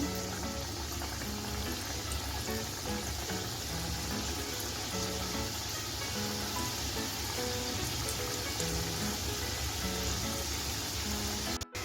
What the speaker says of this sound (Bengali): লোতে রেখে আমি গজাগুলো দিয়ে দিচ্ছি লোতে রেখে আমি অনবর্ত নিয়ে তেলে ভেজে নেবো